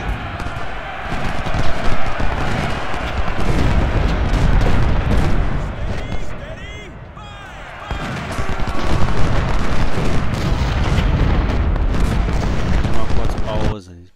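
Cannon artillery booms again and again in the Civil War video game Ultimate General: Civil War, dense battle rumble with repeated heavy blasts, while someone talks over much of it.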